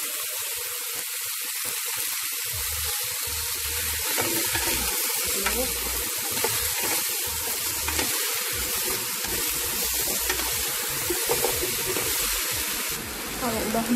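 Pumpkin pieces hitting a hot pan for pumpkin soup, giving a steady close sizzle and frying crackle with light stirring scrapes throughout, no voices.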